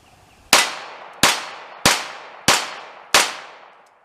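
Five sharp shots from a Stoeger Luger .22 semi-auto pistol firing plain lead-bullet ammunition, crisp cracks spaced roughly two-thirds of a second apart, each followed by a short ringing decay, near and loud with no talk.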